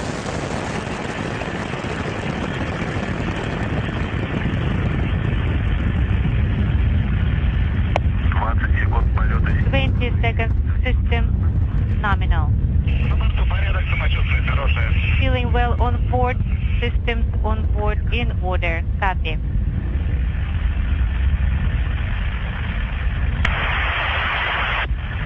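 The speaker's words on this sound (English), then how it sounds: "Booster ignition and liftoff." Soyuz TMA-15 rocket at booster ignition and liftoff, heard as a loud continuous broadband roar through a radio-style feed, with voice-like crackling transmissions over the rumble.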